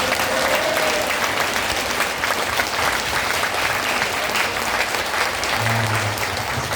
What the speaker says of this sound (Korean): 감사합니다라고 박수 한번 드립니다